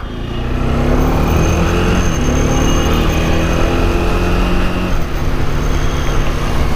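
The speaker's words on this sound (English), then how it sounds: "That is Indian traffic" Busy road traffic in Hyderabad, India: a dense, steady roar of engines, horns and passing vehicles, loud and continuous with no pauses.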